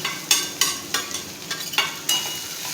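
Chopped boiled potatoes being mixed into spice masala in a pan, a regular series of soft scraping strokes about every third of a second, close and moderately loud, with no talk.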